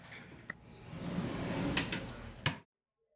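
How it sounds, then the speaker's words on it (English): A drawer slides into its runners with a low rolling rumble and sharp clicks at three points, the last a firm click as it seats. The sound is close and quiet, then goes silent. "You'll hear the runners click and the drawer will run smoothly"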